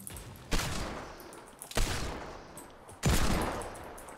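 SMG gunfire in a playground 1v1 video game match: three loud bursts of rapid shots at about half a second, 1.8 seconds and 3 seconds, each trailing off into a noisy decay, with no talking.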